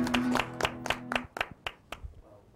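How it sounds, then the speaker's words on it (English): A studio audience at a late-night variety show claps in a burst of applause that thins out into scattered individual claps, with a low hum underneath and a voice briefly at the start. "how about a round of applause? Come on. Let's hear it for him."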